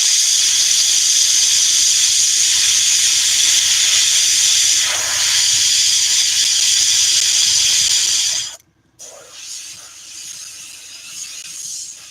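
Continuous hissing spray from an airbrush that won't spray properly, steady for about eight seconds, then it cuts off abruptly and resumes faintly.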